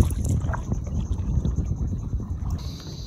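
Strong rainy-season wind blowing through a mangrove forest, roaring and gusting steadily with heavy low buffeting against the microphone, a few faint knocks and creaks mixed in.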